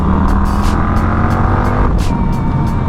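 An Indian FTR motorcycle engine pulls hard under acceleration, a loud steady roar with a gear change partway through, heard close up with wind rushing over it.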